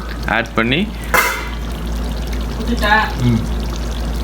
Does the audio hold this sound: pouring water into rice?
yes